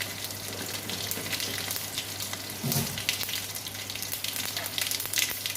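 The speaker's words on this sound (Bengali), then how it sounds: "কটা কাঁচা লঙ্কা ফোড়ন আমডাল আমডালের জন্য কটা সর্ষে ফোড়ন দিলাম" Mustard seeds and green chillies sizzle steadily in hot oil for a tempering for mango sour dal, a continuous close crackle with a brief louder burst midway and no voices.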